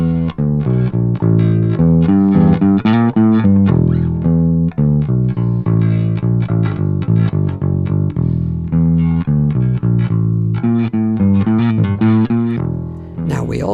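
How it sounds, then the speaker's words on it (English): Distorted electric bass played through the Nembrini Audio BlackIce plugin on its gamma setting, an open, filthy, wild distortion; a continuous run of loud, gritty sustained notes and riffs plays alone, ending with a brief high click. "gamma is a more kind of open, just filthy, wilder distortion sound"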